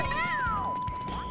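A cat meows once, loud and close, with a rising then falling tone, in the video game Super Mario 3D World over a steady background tone.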